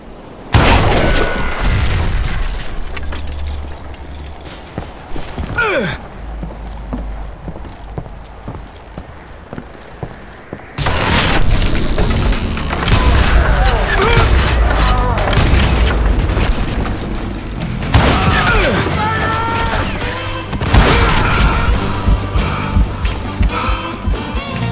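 Dynamite blasts in the Western shooter Call of Juarez Gunslinger, deep booming explosions with crumbling debris and rumble, a quieter stretch in the middle before heavy repeated bursts return, with game action layered over.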